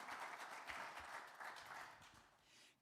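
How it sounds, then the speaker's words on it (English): An open mic audience applauds steadily after a violin performance, a dense wash of many hands clapping that fades slightly near the end. "Give a round of applause for Amelie on the violin."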